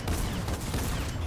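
Dense, continuous gunfire from a video game, a rapid rumbling barrage of shots with no pause, fairly loud and close.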